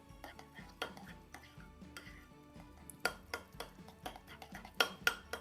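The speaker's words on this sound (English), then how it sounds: "I'm going to start stirring that up" A spoon stirs reconstituted freeze-dried pumpkin puree in a bowl, giving soft, scattered clinks and scrapes against the dish, faint and irregular, with a few louder knocks near the end.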